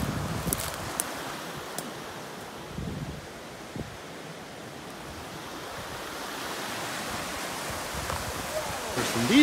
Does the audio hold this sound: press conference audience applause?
no